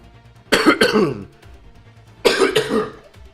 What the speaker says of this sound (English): Cough is getting really bad.